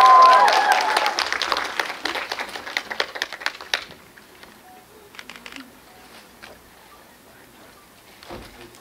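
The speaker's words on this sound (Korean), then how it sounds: "감독님과 김남길 배우를 큰 박수로 맞이하겠습니다" An audience at a special screening talk for the film Revolver applauds to welcome the director and actor Kim Nam-gil, loud dense clapping at first that thins into scattered claps and fades to near quiet.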